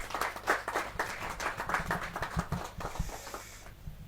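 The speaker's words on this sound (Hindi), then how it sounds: "जोरदार तालियों के साथ।" Audience applause at a Hindi kavi sammelan poetry recital, a dense burst of many hands clapping that fades out toward the end, with some low rumble beneath.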